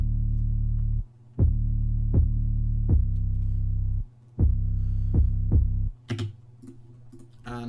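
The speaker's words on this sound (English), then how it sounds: "It's just a completely random 808 that I found." Deep, booming 808 sub-bass notes pulse in a sparse rhythm, each with a short click at the start, alternating between two pitches with no other instruments.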